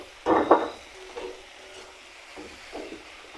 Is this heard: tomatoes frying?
yes